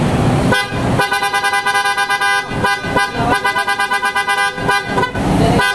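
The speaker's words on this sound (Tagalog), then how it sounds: "Pakinggan natin muna mga boss yung tunog ng auto style horn." Aftermarket auto-style horn fitted to a 2019 Toyota Vios, loud and close, sounding a long blast, then a series of rapid pulsing toots, then further long blasts and quick honks.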